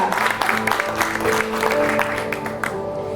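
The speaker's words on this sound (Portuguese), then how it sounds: "Aplaude ao Senhor, aleluia!" A church congregation claps steadily and fairly loudly throughout, with a few voices rising faintly under the applause.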